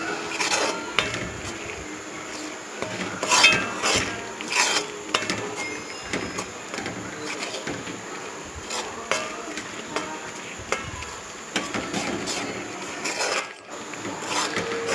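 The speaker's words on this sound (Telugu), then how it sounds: "ఇలా దగ్గర పడేదాకా కలుపుకొని ముద్ద అయ్యేలాగా మనం ముద్ద అయిందాకా కలుపుకొని ఉండాలి" Mysore pak mixture being stirred in a pan until thick, with repeated metallic scraping and clinks of a spoon against the pan in an uneven rhythm, close and steady throughout.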